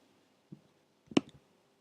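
Buttons pressed on a TI-84 calculator, two faint plastic clicks about half a second apart in an otherwise quiet room.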